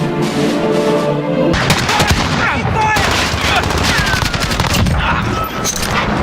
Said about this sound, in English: I have actually not fired a bullpup weapon before.